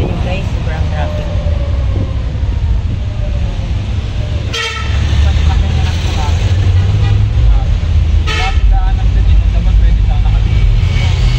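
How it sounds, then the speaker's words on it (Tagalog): Heavy road traffic with a constant engine rumble and a few loud car horn toots, one of them long, close by under casual talking. "Kita nyo guys, sobrang traffic."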